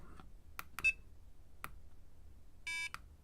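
Several short, sharp electronic beeps from a hand-soldered digital clock kit, spaced irregularly, ending with a longer tonal beep, quiet and close against a near-silent background.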